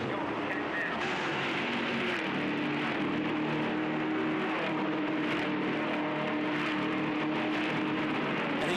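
V8 ute race cars roar around the 2009 Adelaide street circuit, a dense, continuous, loud engine drone with rising and falling revs as the pack passes, under a commentator's talk.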